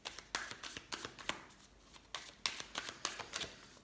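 Tarot cards are shuffled by hand in quick, quiet riffles and flicks, a steady run of soft papery snaps heard up close.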